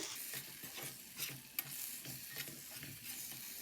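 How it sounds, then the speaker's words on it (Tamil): A spoon stirs dhaba-style egg masala with pepper powder in a pan, making soft repeated scraping strokes over a quiet, steady sizzle, with one sharp clink near the middle. "அந்த மிளகுத்தூள் சேர்த்து கலந்து வரமே"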